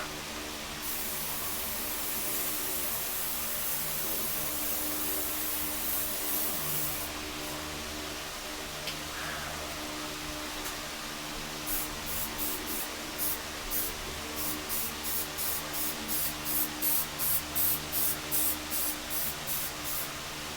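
Aerosol can spraying gray primer onto a restored 1926 toy train rail (136 LV), a steady close hiss with a pause near seven seconds, then a run of short rhythmic bursts toward the end.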